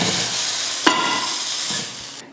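Hot tempering tipped into a pot of okra sambar gives a loud, close burst of sizzling and hissing steam that starts with a sharp splash and then fades away steadily with no voices.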